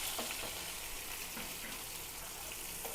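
Fish heads frying in a pan of oil, a steady dense sizzle with faint crackles and occasional spits, close and continuous throughout with no voices.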